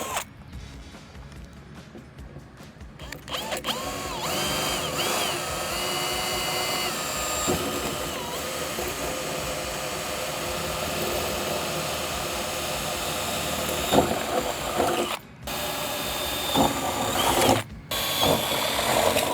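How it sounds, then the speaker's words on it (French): Power drill boring through a wooden swing shutter to reach a strap hinge hole on the far side, a steady close whirring grind running almost continuously with brief pauses and a few louder bursts. "pour le perçage, veillez à percer bien droit au niveau de votre volet"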